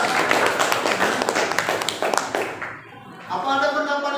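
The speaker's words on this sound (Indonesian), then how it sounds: "Berikan tepuk tangan kepada dia" Students in a classroom clap together for about two and a half seconds, a dense burst of close handclaps that fades before a teacher's voice takes over.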